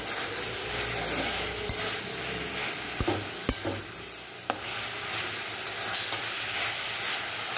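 Greens sizzle steadily in a hot pan, with occasional sharp clinks and scrapes of a spatula stirring, close up and without talk.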